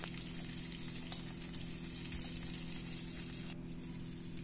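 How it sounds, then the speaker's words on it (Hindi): Quartered eggplant pieces fry in a pan, making a constant, fairly quiet sizzle with a low hum underneath throughout. "हम बैंगन के चार पीसेस कर लेंगे और उनको फ्राई करेंगे।"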